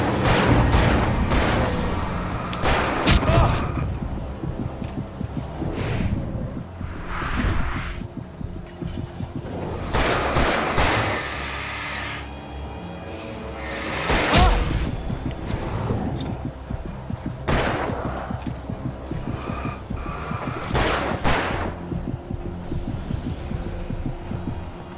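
Gunfire in the video game Alan Wake, set in a dark forest: heavy, booming shots fired one or two at a time every few seconds, loud and punchy over a low, droning game ambience with no talking.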